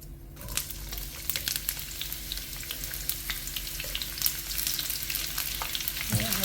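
Onions sautéing with pandan leaves in oil for nasi lemak, a continuous close sizzle with light stirring scrapes and crackles throughout.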